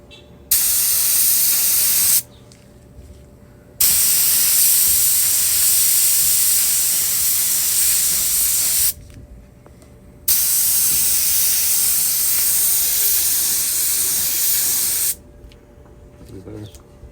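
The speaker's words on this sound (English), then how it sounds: "This is why I like clearing with the Seta Jet." A Seta Jet spray can lays clear coat onto a model car in three long, loud hissing bursts with short silent pauses between them, while faint low background noise persists throughout.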